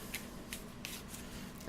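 Playing cards being shuffled, a quick run of papery riffling flicks close up over low background hum, brief and continuous.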